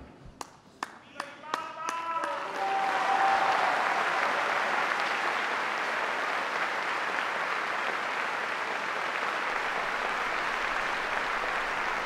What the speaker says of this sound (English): that applause marks the conclusion of our Wednesday General Audience live broadcast